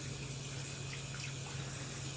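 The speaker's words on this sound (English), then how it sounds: "So you just rinse it off." Water running steadily from a sink tap while a face is rinsed, a constant close splashing rush over a low hum, with no voices.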